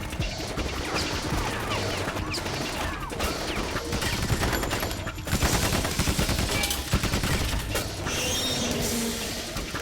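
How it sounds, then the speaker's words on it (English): Gunfire rattling against metal in Metal Gear Solid 2, a busy clatter of rapid shots, clanks and creaking mechanical noise under a steady game soundtrack. "They're shooting at metal."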